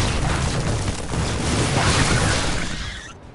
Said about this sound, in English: Oh, look at the beautiful explosions.